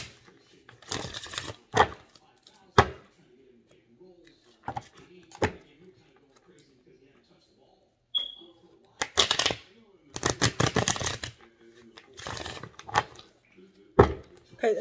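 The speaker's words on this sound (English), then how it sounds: "I'm talking about trouble shuffling these cards." Tarot cards are shuffled in several separate bursts of quick riffling and snapping, close and crisp, with quiet pauses between and a faint brief tone in the middle.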